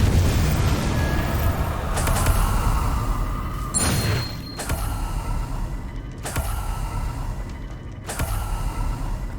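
Spell casts in the video game Hogwarts Legacy, including the Depulso spell, a series of sharp blasting bursts that land every second or two over a steady rumbling background, loud and close.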